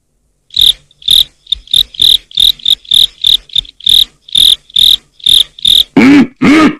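Crickets chirp in a steady run of about a dozen sharp, evenly spaced pulses, loud and close, ending in two longer, harsher buzzing calls.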